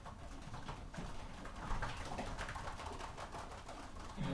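A marathon racing pigeon coos softly and repeatedly at close range, a low throaty bubbling call with no other sounds around it.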